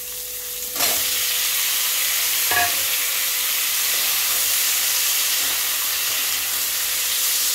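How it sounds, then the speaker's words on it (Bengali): Pieces of raw green pumpkin fry in a pan with garlic and green chili, a loud, even hiss that swells sharply as they drop in, with a brief stirring scrape after and no talking. "মিষ্টি কুমড়োটা আমি ভালো করে ভাজা করে নিচ্ছি"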